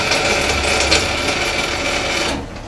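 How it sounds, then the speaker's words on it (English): A power tool cuts through a piece of Delrin plastic, giving a steady, loud, close grinding whir that holds for a couple of seconds before easing off at the end. "I ordered a piece of Delrin and I'm cutting it"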